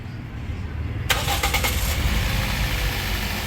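A Toyota 2NZ-FE engine cranks and catches, settling into a steady rough idle with a clattering noisy tone, heard close up in a workshop.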